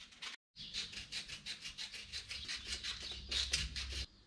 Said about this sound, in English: Got to sand all the inside.